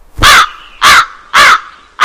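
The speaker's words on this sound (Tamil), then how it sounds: "நோவா முதலில் ஒரு காகத்தை விட்டார்," Loud crow caws repeat four times in a steady rhythm, each harsh call close and clear, as a sound effect in an animated Noah's ark story.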